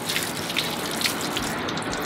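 Water runs steadily from a tap during a husky puppy's first bath, a continuous close hiss and splash with a few brief drips, no talking.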